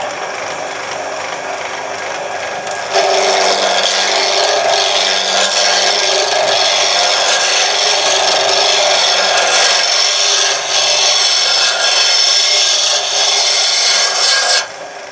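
A roughing gouge shears a wooden blank spinning on a lathe, roughing it down to a cylinder. A steady, loud rasping scrape starts suddenly after a quieter lead-in and runs continuously until it drops near the end.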